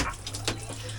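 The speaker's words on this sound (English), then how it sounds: "You've never seen a shower so quick" Water runs from a shower in an off-grid setup, a steady close hiss of spray splashing for about a second, loud and continuous with no talk.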